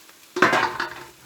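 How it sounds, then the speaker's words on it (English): Oyster mushrooms hitting a hot pan with minced ginger, giving a sudden sizzling burst that rises sharply, then settles into a fading fry with light stirring. "Now add the minced ginger and fry for 30 seconds, and then add the mushrooms."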